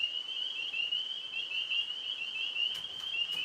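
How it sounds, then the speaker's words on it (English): Tree frogs call at night in a dense, steady high-pitched chorus that runs continuously throughout, with a few brief sharper chirps near the end and no voices. "we can listen to the tree frogs for a little while"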